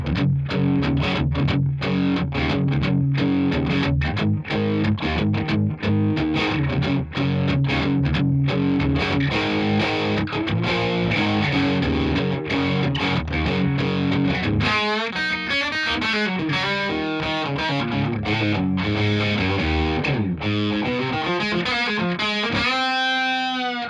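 An electric guitar played through a Cooper Time Cube delay, loud and continuous with distorted, effects-laden tone and repeating echoes throughout.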